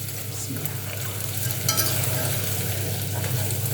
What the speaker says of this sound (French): les 65 grammes de beurre et il faut bien mélanger